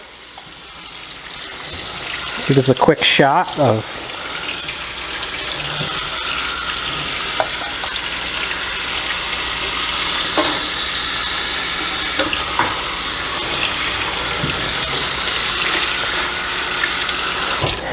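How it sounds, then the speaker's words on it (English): Cold water runs from a kitchen sink tap in a steady hiss and gush, with a short burst of clatter early on and someone speaking briefly. "turn on the cold water"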